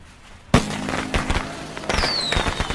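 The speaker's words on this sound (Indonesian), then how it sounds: "Keduanya kemudian bersiap melakukan sesuatu yang besar, yaitu menyalakan kembang api." A sharp bang sets off a run of scattered crackling pops, and a thin whistling tone glides downward partway through.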